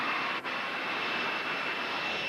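A Wren Turbines jet motor mounted on a skateboard roars steadily at a factory in Yorkshire, a loud, continuous broadband hiss-and-whine that barely wavers throughout.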